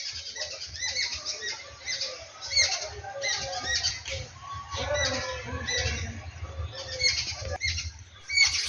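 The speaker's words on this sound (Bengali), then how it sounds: "সুন্দর পাখির আওয়াজ, পাখি গান করছে" Birds in Hijal forest, Popra, Malda, chirp and twitter in scattered, overlapping calls against a low outdoor rumble, moderately faint with occasional louder bursts.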